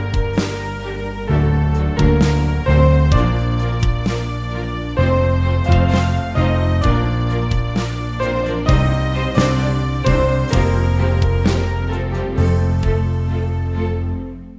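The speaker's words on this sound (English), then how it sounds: "I actually recorded manually the kick drum, the snare drum," Manually recorded drum kit with kick drum, snare drum and hi-hats in Logic Pro X, a steady loud groove of punchy kicks, cracking snares and ticking hats repeating through the whole loop with a prominent low bass layer.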